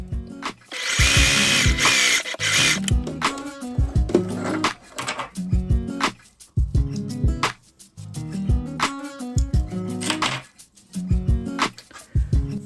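A sewing machine runs a seam along a fabric headband in loud, repeated bursts of rapid mechanical stitching, each run a second or two long and broken by short pauses, with sharp clicks between the runs.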